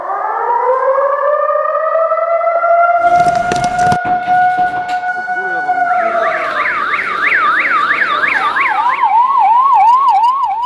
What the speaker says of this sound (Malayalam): സൈറൺ മുഴങ്ങിയതോടുകൂടി മോക്ഡ്രിൽ ആരംഭിച്ചു